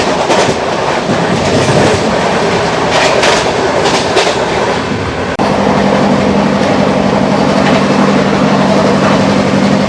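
A Yesvantpur–Delhi Sarai Rohilla Duronto Express passes at close range. It makes a loud, sustained rumble with rhythmic clickety-clack of wheels over rail joints, and there is a brief shift in tone midway.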